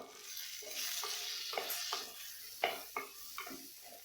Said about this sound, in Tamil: இது எல்லாத்தையும் நல்லா வதக்கி விட்டுக்கலாம்.